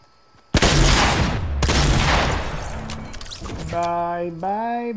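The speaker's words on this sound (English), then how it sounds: "I'm gonna gun you down, buddy." Fortnite gunfire bursts in abruptly: two heavy, loud blasts roughly a second apart, each followed by a rattling spray of shots, then a fading tail overtaken by tonal, wavering in-game sounds.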